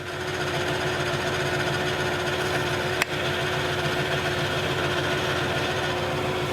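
A Hardinge HLVH toolroom lathe runs at its slower threading speed with the half nut engaged, giving a steady, close machine whir and hum that holds even throughout, broken only by one brief click midway.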